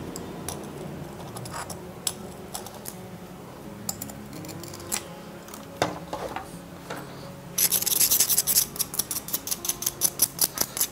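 A concave cutter snips through a thick bonsai root growing out of a pot, heard as sparse quiet clicks and scrapes followed by a faster run of sharp, close cutting snaps near the end.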